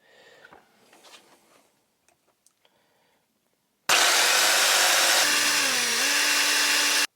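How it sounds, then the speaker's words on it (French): Power tool cutting tabs and drilling two holes: quiet handling clatter and taps at first, then a loud, steady whining drill or saw runs continuously, its pitch dipping briefly under load near the end. "je coupe ces languettes et je perce les 2 trous"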